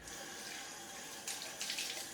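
A tap runs steadily into a sink to rinse alum off after a shave, close and constant, with the splashing growing a little louder and brighter partway through.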